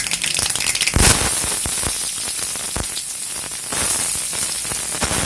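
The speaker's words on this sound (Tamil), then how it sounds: "அடுத்து கடுகு கொஞ்சம் பொரிஞ்சதும் கொஞ்சம் சோம்பு சேர்த்துக்கலாம்" Mustard seeds and fennel seeds splutter in hot oil in a Chettinad kitchen, a loud dense crackle of rapid pops and sizzling with sharper bursts throughout.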